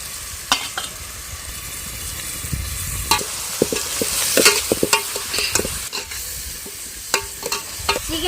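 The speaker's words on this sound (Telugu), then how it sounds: "నూనె అయితే బాగా వేడింది కదండి ఉల్లిపాయలను పచ్చిమిర్చి వేసుకుందాం" Onions and green chillies dropped into hot oil crackle and sizzle while a spoon stirs them, with a steady bright hiss and scattered sharp scraping clicks close by and no talking.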